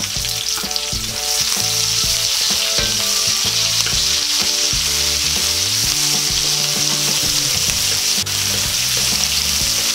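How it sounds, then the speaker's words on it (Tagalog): Onion sizzles loudly in hot oil with golden-browned garlic in a pan, cooking for pork tongue adobo as a steady dense crackle with occasional stirring knocks, close and continuous with no voices. "Lulutuin lang po natin ng konti ang ating sibuyas para medyo lumambot po siya"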